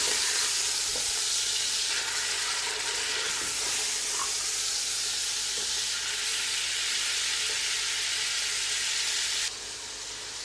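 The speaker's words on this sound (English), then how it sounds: "just let that fry, and we're just going to lightly brown it just like this" Lamb meat for karahi fries in a pan with a steady, close sizzle and hiss that runs continuously and then drops slightly near the end.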